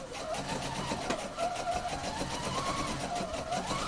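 A sewing machine runs steadily, stitching piping cord into a bias strip, with a continuous mechanical whir and no pauses or talking.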